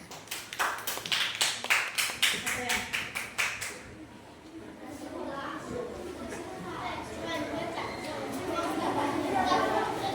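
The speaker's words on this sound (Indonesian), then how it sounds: "Tepuk tangan untuk kelompok 2." A classroom gives a group of students a round of applause: about a dozen loud, evenly spaced rhythmic claps in unison, followed by quieter chatter and children's voices.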